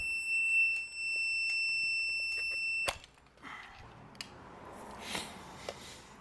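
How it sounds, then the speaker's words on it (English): An AUTOONE 4000A jump starter gives a steady, high electronic beeping tone for about three seconds, then stops with a click. Faint handling rustles and small taps follow. "It's making a beeping sound."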